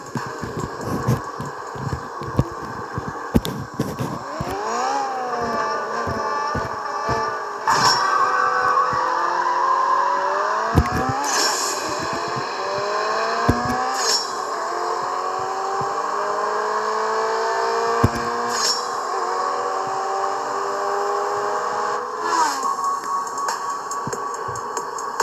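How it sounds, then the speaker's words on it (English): Small Kukuru S mini car in a racing video game on a test drive, engine note rising and falling through repeated gear changes with tire squeals and skids, steady and close with no talking. "We're gonna do a test run with my little mini, the Kukuru S."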